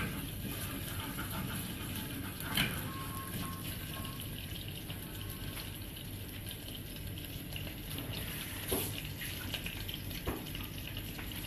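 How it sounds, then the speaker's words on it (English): A quiet, steady trickle of water being poured into ginger-garlic paste for goat biryani, with faint clinks and a soft hiss throughout. "I'll just add in a little water."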